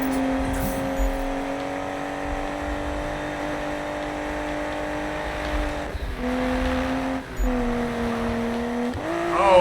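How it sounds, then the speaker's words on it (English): Race car engine in the Need for Speed 2015 video game, a loud, steady high-revving drone with two brief dips as gears shift, then climbing revs at the end. "Don't particularly like the car sounds."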